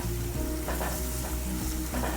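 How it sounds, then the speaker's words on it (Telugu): Chicken pieces fry with ginger garlic paste and curry leaves in a hot pan, giving a loud, steady, close sizzle with faint stirring scrapes throughout, no voices. "ఇది కొంచెం ఫ్రై చేసుకుందాం."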